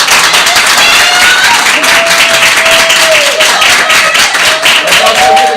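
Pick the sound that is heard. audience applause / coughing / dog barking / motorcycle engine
audience applause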